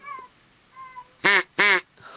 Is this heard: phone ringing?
no